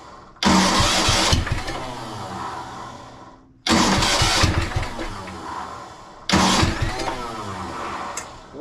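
An old tractor engine roars at max idle in three loud bursts, each fading slightly before cutting off briefly and revving again, with no talk over it.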